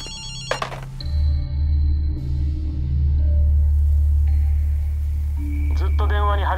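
A telephone rings in the game Ghostwire: Tokyo, short bright electronic trills at the start and again at the end, separated by a low rumbling hum and other game sounds.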